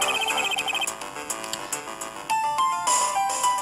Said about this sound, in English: There's a phone call for you, sir.